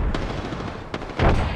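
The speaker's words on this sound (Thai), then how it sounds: "มันยิงกันข้างล่าง" Gunfire in the Apex Legends battle royale game, a few sharp distant-sounding shots and bursts spaced out over under two seconds, with no talking.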